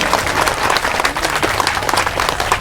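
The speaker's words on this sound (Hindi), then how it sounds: "बजाओ ताली अपने लिए, खुश नसीब हो के नहीं हो?" Loud, dense applause from a seated audience at a Brahma Kumaris spiritual gathering, continuous clapping throughout with no gaps, close and full.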